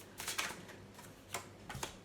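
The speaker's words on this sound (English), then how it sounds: "I'm just shuffling a few here" Tarot cards being shuffled by hand in a few quick bursts of soft, crisp riffling and flicking, with short pauses between, fairly close and moderately quiet.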